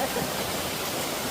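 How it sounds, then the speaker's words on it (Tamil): Heavy water pouring at Vathalmalai waterfall, a steady dense roar with no breaks, close and fairly loud throughout. "இப்போ பயங்கரமான தண்ணி போயிட்டுருக்கு"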